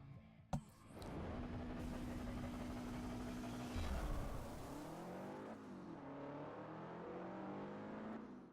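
A race car in the Forza Horizon racing game launches off the start, its engine revving hard and climbing in pitch with gear shifts, a loud, steady roar filling the whole stretch.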